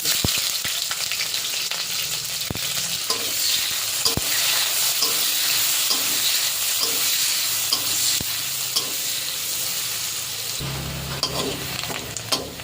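Onions sizzle in hot oil tempered with cinnamon, cardamom, bay leaves and whole cumin, with a steady frying hiss broken by repeated spatula scrapes and taps against the pan.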